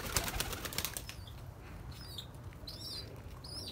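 Birds flap their wings briefly as they are lifted by hand, a quick flurry of soft fluttering close by at the start, followed by faint chirps and squeaks in a quiet space.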